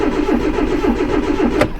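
Cranking of a 2010 Hyundai Accent that won't start, following starter and O2 sensor replacement: a steady, rhythmic whirring chug of the starter turning the engine over, loud and close, without catching, and no talking.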